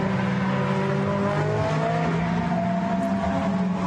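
Blancpain GT Sports Club race cars in the midfield pass in quick succession at Barcelona, their engines roaring loud and close, then pitching down as they go by, with no voices present.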